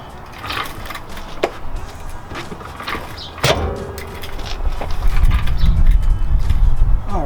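A Lexus GX470 lower control arm is forced into place with a foot, giving scattered creaks and knocks, one sharp metallic bang midway, then a louder rumbling scuffle of movement.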